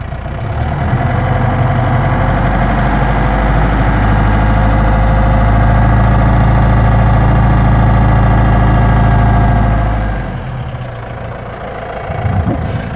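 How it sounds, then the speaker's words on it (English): A Mandi Dabwali Jeep engine idles with a loud, steady, low droning hum for about ten seconds, then drops off before a faint rise at the end. "So let us see if we revive the engine, if we raise the engine, what happens."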